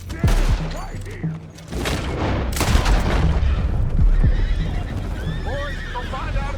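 In Red Dead Redemption 2, a horse whinnies loudly amid hoofbeats, gunfire bursts and booms during a frantic gunfight, with voices calling out around it.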